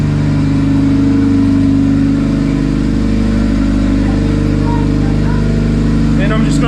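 A turbocharged Honda Civic with a D16 engine idles steadily while warming up in a garage with the door open. The loud, even, droning hum of the motor carries on close by without a break.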